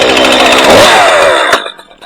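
Neglected chainsaw engine fires up after a few pulls and runs loud and close with a buzzing, rising rev, then cuts out abruptly near the end.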